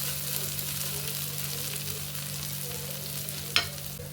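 Paneer sautéing on a hot tawa gives off a steady, close sizzle and hiss, with one brief utensil scrape near the end and no voices.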